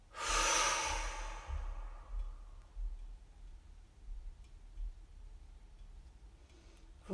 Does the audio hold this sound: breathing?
yes